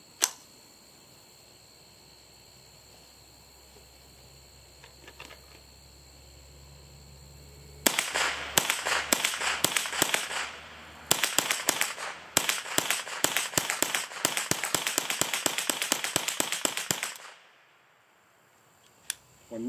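A Ruger 10/22 rifle firing from polished magazines: a rapid string of sharp, close gunshots in quick succession, with a brief pause partway through, then silence.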